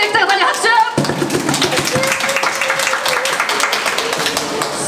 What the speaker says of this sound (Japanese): 全問正解できた方に拍手